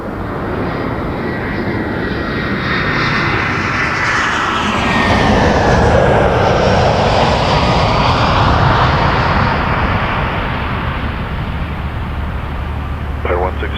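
An airplane takes off at Toronto Pearson Airport, a loud sustained engine roar that swells and then slowly fades as it climbs away, with voices talking over it.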